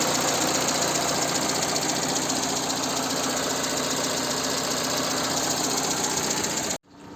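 Peugeot 206CC running on E85 ethanol, a steady close mid-pitched engine idle with a rough, knocking rattle throughout before cutting off abruptly near the end.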